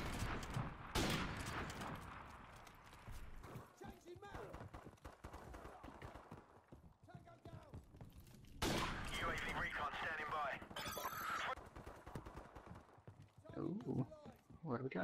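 Gunfire from a sniper rifle in the Modern Warfare video game, with several sharp loud shots and bursts scattered through a noisy stretch of game sound, while someone talks over much of it.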